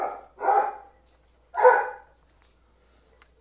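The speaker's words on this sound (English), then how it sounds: "my dog is just incessantly barking today" A dog barks two or three times nearby, sharp and loud, followed by quiet with a faint click at the end.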